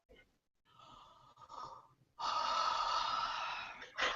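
A person yawns, a long breathy open-mouthed exhalation building after a few softer intakes of breath, close and fairly quiet, ending with a short final breathy burst.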